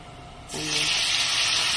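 Tap water starts gushing into a cooking pot after a brief quiet moment and keeps running as a steady, close, full rush, while beef steak is prepared in a home kitchen.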